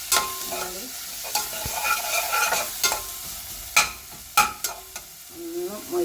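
Ingredients stir and sizzle in hot ghee for chicken soup, a spoon scraping the pan in sharp clinks and bursts over a soft continuous frying hiss.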